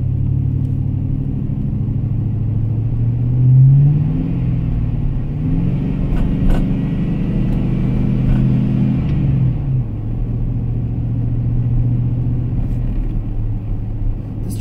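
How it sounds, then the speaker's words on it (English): Truck engine heard from inside while driving, a low steady rumble that rises in pitch as it revs, then drops with a gear shift, with a faint whine around the shift. "Does sound nice, but I do notice like a whining noise whenever it does shift."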